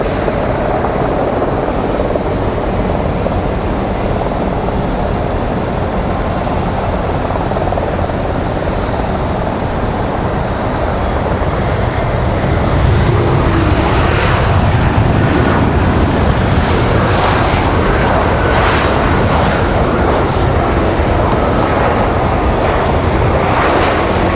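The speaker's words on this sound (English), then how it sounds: "That MD-11 departure is going to sound absolutely fantastic" Loud, steady jet engine roar building over time, a broad rumbling wash of noise that swells slightly midway, as an MD-11 airliner departs nearby at Raleigh-Durham International Airport.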